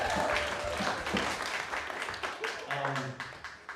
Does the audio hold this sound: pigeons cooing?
no